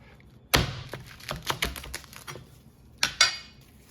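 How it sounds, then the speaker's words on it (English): A big Chinese cleaver chops through corn on the cob on a cutting board, giving a handful of sharp, close knocks and thuds in an irregular rhythm, with quieter taps between them. "Take our big old Chinese cleaver"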